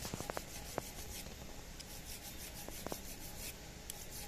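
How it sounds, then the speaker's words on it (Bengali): A metal file rubbed by hand against a single needle sewing machine hook under repair, giving soft, faint scraping strokes with a few sharp ticks scattered through, close and quiet with no talk. "এই যে ফাইল দ্বারা এই যে আমি যে ঘষছি"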